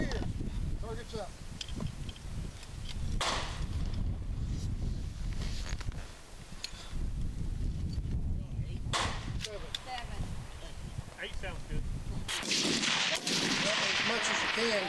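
Rifle shots from a budget Savage Axis rifle at a 600-yard F-Class match, with several sharp, loud reports spread through an outdoor range scene while people talk throughout.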